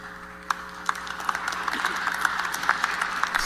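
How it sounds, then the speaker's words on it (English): Scattered applause from an audience at a political speech about crypto and Bitcoin: a few isolated claps at first, then a thin, uneven patter of hands growing slightly, fairly quiet and distant over a faint steady hum. "Scattered applause."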